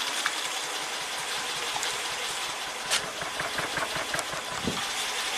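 A Honda Accord engine with a VCM misfire problem idles steadily, giving a continuous mid-pitched hum with faint rhythmic ticking and a few brief clatters, heard close and fairly loud.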